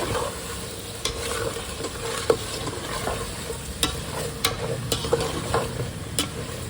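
Mutton being stirred with garam masala in a pan: a soft continuous sizzle broken by sharp, irregular spatula scrapes and knocks against the pan, close and fairly quiet.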